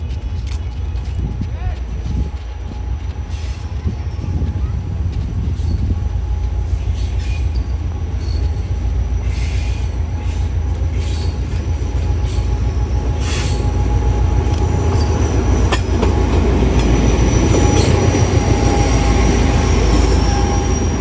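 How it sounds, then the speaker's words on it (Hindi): The Rehman Baba Express (48 Down) rolls through Malir railway station behind locomotive HJM 30R 8204. A loud, continuous rumble of rail cars and clattering wheels builds steadily, with high wheel squeal running throughout. "ये 48 डाउन होगी, 48 डाउन रहमान बाबा एक्सप्रेस"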